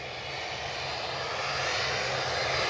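A jet airliner engine roars at Edinburgh Airport, a loud, sustained broadband rush that swells slightly over a few seconds, heard alone without voices.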